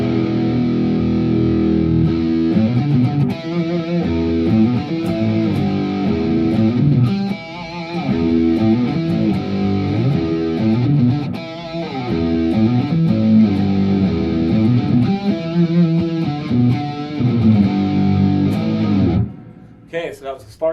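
A distorted electric guitar tone from a Spark modeling amp plays continuous chords and riffs, loud and close for about twenty seconds, ending with a brief trailing off.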